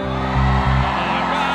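Fans at a festival opening shout and cheer, with one loud whoop rising above the crowd noise in a short burst.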